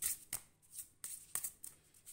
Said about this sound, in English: Ruffle shuffle is perfect,